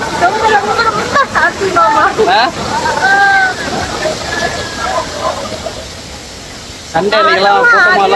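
The Salem Kutralam waterfall roars as a constant broad rushing wash in the background, running under frequent nearby chatter and voices throughout.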